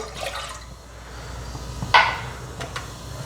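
Water is poured into a pan with milk for cheese bread dough, heard as a brief, close splash and trickle amid quiet kitchen clatter.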